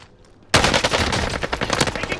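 Rapid automatic gunfire bursts out abruptly after a quiet moment in a shooter video game on the Fortune's Keep map, a loud sustained string of shots.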